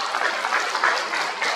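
A hall audience at a peace and unification education event claps to welcome a guest speaker, a steady, dense wash of many hands lasting the whole moment with no voices over it.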